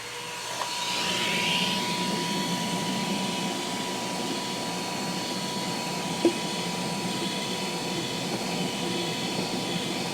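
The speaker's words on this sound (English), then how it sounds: "I use the vacuum hose to vacuum the fan" A steady, droning whine of a vacuum hose running continuously over a Glowforge laser cutter fan, with a brief clunk partway through.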